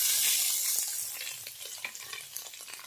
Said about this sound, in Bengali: সয়াবিনগুলো ভালো করে ভেজে নিয়েছি